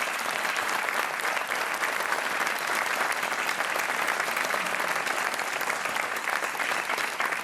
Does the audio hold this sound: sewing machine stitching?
no